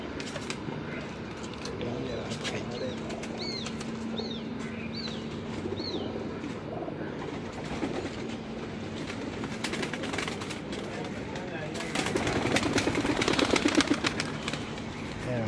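Lal Toofan pigeons on a rooftop loft give repeated soft coos through the first half, then a louder burst of wing flapping and rustling near the end, with people talking nearby.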